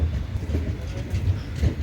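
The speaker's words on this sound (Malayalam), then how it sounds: "സുമേഷേ ട്രെയിൻ വന്നിട്ടുണ്ടല്ലേ" A train from Punalur to Nagercoil rumbles steadily with low, heavy mechanical noise and faint rhythmic clatter, fairly close, with no voices.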